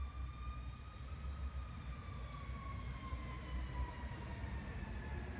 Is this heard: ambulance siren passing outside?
yes